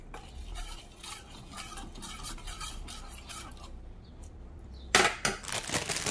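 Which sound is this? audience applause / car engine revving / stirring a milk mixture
stirring a milk mixture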